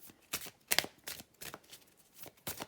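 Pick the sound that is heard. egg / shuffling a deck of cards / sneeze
shuffling a deck of cards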